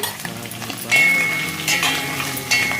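Paneer cubes frying with onions in a pan as turmeric is added, steady close sizzle with a spoon stirring and clinking against the metal, no talk.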